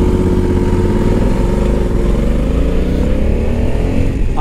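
Honda Africa Twin 1100 DCT motorcycle engine running steadily while being ridden, a loud, continuous droning hum with rising and falling pitch, close and alone.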